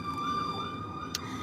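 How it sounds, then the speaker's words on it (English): Fire truck siren wailing nearby, a steady rising-and-falling tone held over low traffic rumble, with a short sharp click near the end. "Oh yeah, that's a fire truck."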